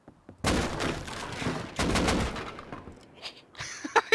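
Gunfire in the survival video game Rust: a loud, close burst of rapid shots, then a second volley fading into scattered quieter sounds.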